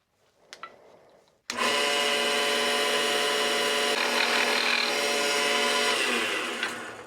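Chisel held lightly against a spinning wooden gnome's spindle shaft on a woodturning lathe, a steady close scraping whir starting after a brief quiet knock and running unbroken for several seconds.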